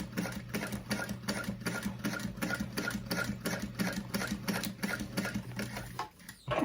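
A sewing machine runs continuously at close range at a long stitch length, stitching the accent edge of a fabric bag. The fast, even needle rattle continues for several seconds, then stops at the end.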